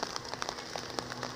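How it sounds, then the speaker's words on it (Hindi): Continuous rain falling on surfaces nearby, a soft steady patter of scattered drops, fairly faint and with no talk. "लगातार बारिश जारी है"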